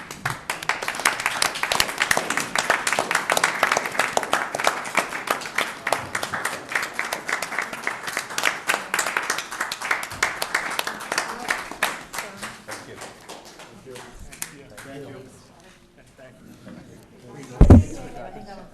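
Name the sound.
applause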